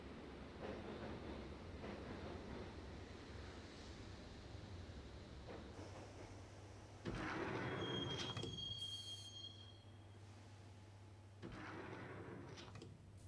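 Train ride in the video game Max Payne: a steady low rumble of a subway car rolling on rails, with a swell of louder clattering and a thin metallic wheel squeal midway, fading back to constant drone.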